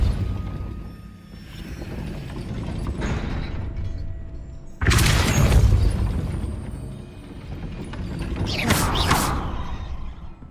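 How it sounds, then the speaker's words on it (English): Heavy stone gate mechanism grinding and creaking as it rises in Hogwarts Legacy, with a sudden loud rumbling burst midway and another surge of clanking near the end, no voices. "That looks as if it might raise the gate."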